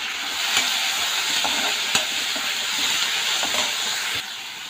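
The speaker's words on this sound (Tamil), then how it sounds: "தக்காளி வந்து நல்லா கரையணும், அது வரைக்கும் வதக்கலாம்." Tomatoes sauté in a pan with golden-browned onion and garlic, giving a steady sizzle and frying hiss with occasional stirring clicks, close and with no talking.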